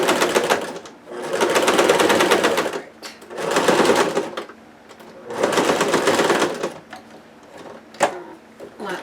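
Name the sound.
sewing machine stitching dress sleeve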